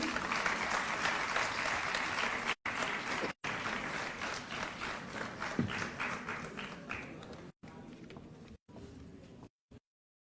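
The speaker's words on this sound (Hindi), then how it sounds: "एक बार जोरदार तालियां बजा दीजिए।" An audience at the International Women's Day awards ceremony in Delhi claps loudly and steadily for several seconds, a dense wash of hands broken by brief cuts and fading toward the end.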